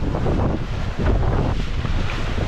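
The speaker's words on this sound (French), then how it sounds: "Là, ça y est, on est dans l'Alizé portugais là." Strong Portuguese trade wind roars across the microphone aboard a racing sailboat under spinnaker at about 25 knots, a loud, continuous gusting rush with water noise beneath and no voices.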